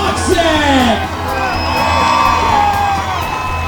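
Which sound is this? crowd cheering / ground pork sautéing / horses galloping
crowd cheering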